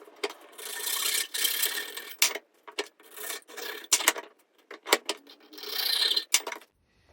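A small wooden shim being cut out by hand gives a series of rasping, rubbing strokes in irregular bursts, close and fairly quiet, with short pauses between and no voices.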